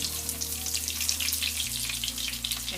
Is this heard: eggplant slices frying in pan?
yes